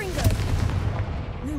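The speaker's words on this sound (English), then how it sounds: "Confringo!" The Confringo fire spell is cast in the video game Hogwarts Legacy, producing a loud, close booming blast with a crackling rumble that quickly trails off.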